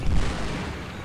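A short, heavy blast as a probe droid is destroyed in Star Wars Jedi Outcast in the Yavin swamp, a deep booming burst that fades quickly.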